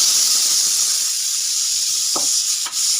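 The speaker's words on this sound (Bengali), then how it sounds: "ভাতের সিটি পড়লো" Continuous loud steam hiss from a pressure cooker whistling while rice cooks, a steady bright jet of steam with a couple of brief knocks near the end.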